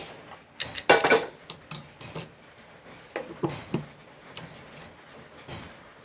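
A metal pan is set onto a kitchen stove with several clanking, scraping metallic knocks, close and fairly loud, followed by lighter scattered clinks.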